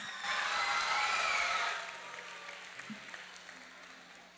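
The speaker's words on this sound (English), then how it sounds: "Let's give Miss Nyla Salinas from first grade a big round of applause." A school talent show audience applauds and cheers for a first-grade performer. The clapping and whoops are loud for about a second and a half, then fade to scattered, fainter claps.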